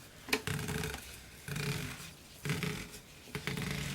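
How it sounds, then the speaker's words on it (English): Four short bursts of hollow rubbing and scraping as fingers rub inside a roller stamp tube, evenly spaced about a second apart, close up with no talking. "That noise you hear is just my fingers inside of the tube."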